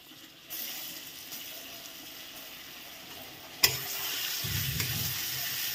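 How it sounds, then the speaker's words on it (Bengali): Ground chana dal paste frying and being stirred in a wok: a soft sizzle starts up, then a sharp clank of a utensil, followed by louder sizzling and scraping strokes, close and fairly quiet. "ডাল বাটাটা নিয়ে আমি কড়াইতে দিয়ে দেবো, দিয়ে আমি নেড়ে নেব।"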